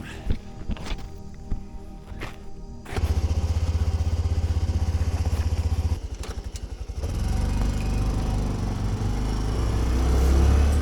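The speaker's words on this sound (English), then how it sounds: "Time to hop on the bike and ride into Rachel and check out the back gate of Area 51." A motorcycle on a dry lake bed near Rachel, Nevada starts with scattered clunks and handling noises, then its engine idles with a steady low throb and builds into a rising drone as it sets off, loud and close.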